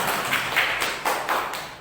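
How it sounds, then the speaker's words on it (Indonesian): An audience in a meeting room claps hands briefly in a few short bursts, close and moderately loud, with no talk over it. "Tepuk tangan untuk kita semua."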